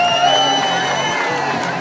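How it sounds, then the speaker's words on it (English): A crowd gathered outdoors for the Christmas light switch-on in Marlow whoops and cheers, a steady roar of mixed voices with some children shouting, filling the whole stretch. "Yeah, give him a cheer."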